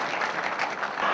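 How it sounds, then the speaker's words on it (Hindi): A Hindi poetry-event audience gives a short burst of dense, steady applause that fills the room evenly, with no pauses. "इसके लिए एडवांस में तालियां बजाते हैं"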